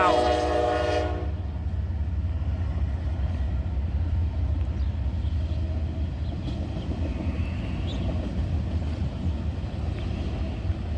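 A Norfolk Southern train blasts its horn at a crossing in Lorain, Ohio, then rumbles loudly and continuously past as railcars roll by close at hand.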